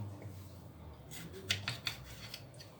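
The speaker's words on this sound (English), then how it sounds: "I've cut my tomatoes into rounds, but now I just want to cut them in half" Knife slicing through tomato rounds on a board, a few quiet crisp cuts in quick succession near the middle, faint and close.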